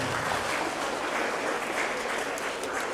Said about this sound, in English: Big round of applause for Sophia.